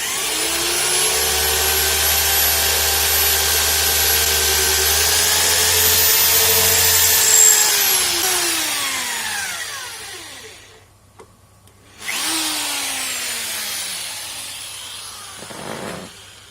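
A power drill bores out and enlarges a slack bolt hole for a thread repair insert, lubricated while drilling: a loud, steady whine that winds down and stops, then a second shorter burst of drilling, with no talk.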